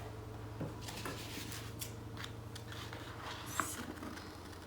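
Scissors cutting an apple shape from a sheet of coloured paper, quiet irregular snips and paper rustles close by over a low steady hum.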